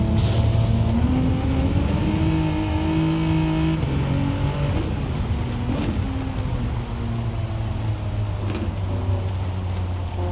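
Gran Turismo 7 car engine at Spa drones loudly throughout with shifting pitch, brief tyre-squeal streaks breaking through as the wheels lock under braking.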